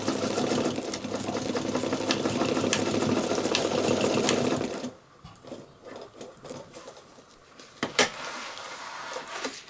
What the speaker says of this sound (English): just sew about 1/4 of an inch from the edge to where the end is that you've tucked in